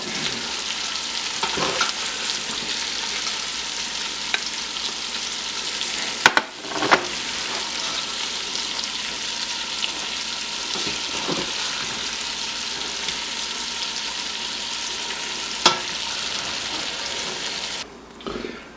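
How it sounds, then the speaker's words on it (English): Browned beef chunks being lifted out of a hot stock pot for stew, a steady loud sizzle and frying hiss throughout, with occasional scraping clanks of a utensil against the pot, no talking. "We're going to remove it from our stock pot."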